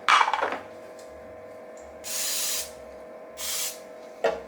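Two short bursts of aerosol cooking spray onto a pan while making fettuccine noodles, each about half a second, separated by quiet handling noises and a few light knocks.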